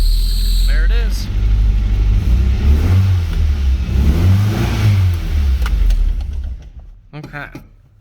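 Nissan S13 engine running and revving hard, a loud steady mid-pitched roar with rising and falling rev swells for about six seconds before dropping back toward idle, with a person talking briefly near the end.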